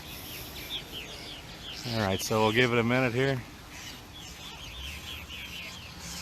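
Birds squawk and call in a short burst of repeated harmonic cries, loud and close, while a person talks over and around them.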